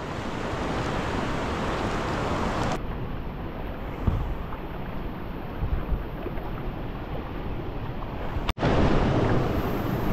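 Steady broadband rush of a clear river flowing around someone standing in the water, constant and close with wind buffeting the microphone and no speech.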